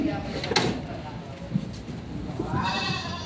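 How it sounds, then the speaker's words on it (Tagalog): Goats bleat amid a busy livestock auction yard in Lucena, with a sharp cry early on and more calls later, heard under steady crowd chatter and people talking nearby. "Mga Tagalog yung mga kambing ng mga pangkatay"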